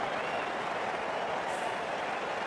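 A stadium crowd in the Cricket 24 video game roaring and applauding after a six in an Afghanistan vs Zimbabwe T20 match, a dense, sustained wash of cheering with no distinct voices standing out.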